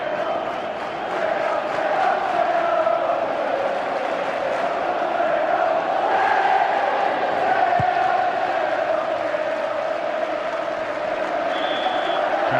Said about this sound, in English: Crowd in good heart now, the Mexican wave going round.